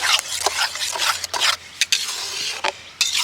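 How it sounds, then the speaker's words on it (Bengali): Ripe mango pulp is mixed with jaggery in a pot, producing rapid, wet scraping strokes of a spoon against the vessel in quick repeated bursts, close and alone. "আমের সাথে গুড়টাকে আগে ভালো করে মিশিয়ে নেব"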